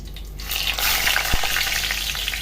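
Eggplant pieces hit hot oil in a pan and sizzle loudly and steadily, with a brief clunk partway through.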